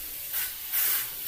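An airbrush sprays paint that is too thick and grainy, giving three bursts of harsh, gritty hissing separated by short pauses, close and alone.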